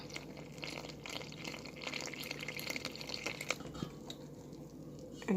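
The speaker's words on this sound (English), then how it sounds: "Instead of using water, we're gonna add milk." Milk poured into a dough mixture for Jamaican fry dumplings, a soft liquid trickle and splash close by, steady for a few seconds with light kitchen clatter.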